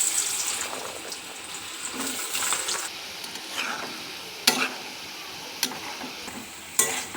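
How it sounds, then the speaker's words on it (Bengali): Potato pieces frying in hot oil in a wok, a continuous close sizzle with stirring scrapes and a few sharp clinks of a utensil against the pan, no talking. "ওদিকে কড়াতে তেলটা গরম হয়ে গেছে, আলুগুলো আমি ভেজে নেব।"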